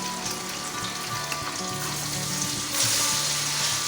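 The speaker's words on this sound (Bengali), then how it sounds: "আস্তে আস্তে করে আমি কড়াই ছেড়ে দিচ্ছি" Paneer pieces frying in hot oil in a wok give off a steady, close sizzle with crackling pops that grows a little louder near the end, with no voices.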